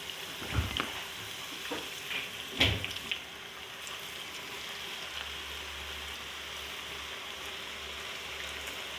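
Potato chips fry in hot oil with a steady, soft sizzle throughout. A few sharper clatters near the start come from stirring or handling the pan, and no one speaks.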